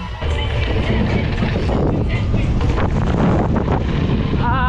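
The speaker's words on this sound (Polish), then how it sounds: "Wieje wiatr" Steady wind blowing across the open hillside at an outdoor slopestyle mountain bike event at Bikefest Kalnica, a loud continuous rushing buffet on the microphone with someone talking over it throughout.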